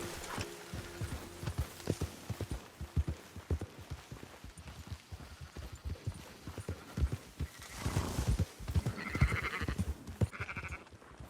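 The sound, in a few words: sheep bleating in video game Red Dead Redemption 2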